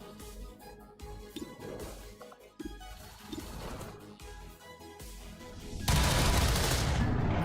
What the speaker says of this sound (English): And we have a free pistol shot